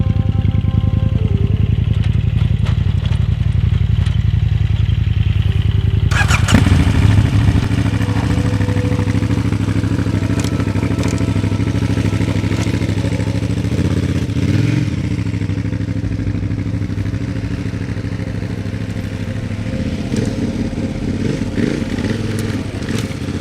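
A KTM motorcycle engine runs loud and close while riding through sand, with steady rumbling and clatter, and its tone shifts as the engine works harder partway through.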